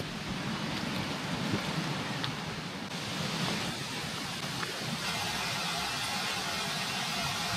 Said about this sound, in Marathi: अरे पाऊस परत येतो ॲक्च्युली.